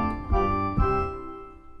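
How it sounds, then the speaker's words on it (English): Electronic keyboard set to an organ voice plays the opening phrase of "The Twelve Days of Christmas", sustained chordal tones with two clear note attacks, close and alone with no talk. "you'll notice I'm playing with an organ sound"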